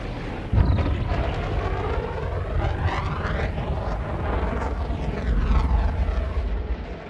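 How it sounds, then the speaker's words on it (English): A spaceship boost in the video game Elite Dangerous on a Panther Clipper Mk II: a sharp distant crack followed by a loud, sustained roaring thrust that swells and rumbles like a jet engine, with no talk over it. "you've got that distant gunshot sound and then the boost itself"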